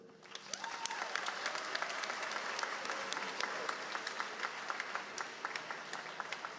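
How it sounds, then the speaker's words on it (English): Steady applause from a commencement audience at the Cleveland School of the Arts 2024 ceremony, honoring district representatives, dense clapping sustained at moderate distance. "I would like for them to stand up so they can receive their applause as well"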